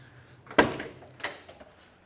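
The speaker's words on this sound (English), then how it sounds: "The passenger side door closes real nicely to the rear quarter." Passenger door of a 1969 Ford Mustang Mach 1 428 Cobra Jet shuts with one solid, loud thunk, followed by a softer latch click about half a second later, in a quiet setting.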